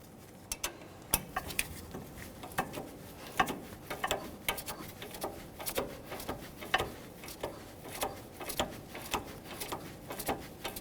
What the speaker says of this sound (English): We'll use a 15mm to tighten the nut and a 7mm to hold the stud while we do so.